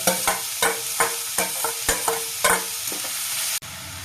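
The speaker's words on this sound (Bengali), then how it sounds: "এটাতে এবার আমি দিয়ে দেবো গ্রেট করে রাখা ফুলকপিটা।" Grated cauliflower and onions sizzle loudly in a pan while a spatula scrapes through them in brisk, regular strokes, about two or three a second, before the sound cuts off near the end.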